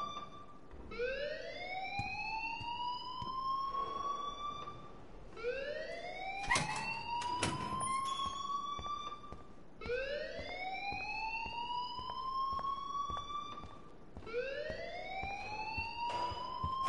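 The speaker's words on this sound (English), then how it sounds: "please turn off that alarm" A school fire alarm in the video game Life is Strange wails in repeating rising sweeps, four cycles at a steady pace, moderately loud and alone without speech.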